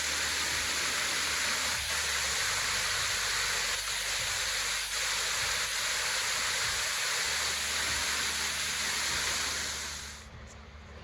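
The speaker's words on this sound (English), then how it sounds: "What a beautiful, beautiful waterfall." A waterfall in a gorge along a hiking trail roars as a steady, dense wash of falling water, constant and fairly near, fading out at the very end.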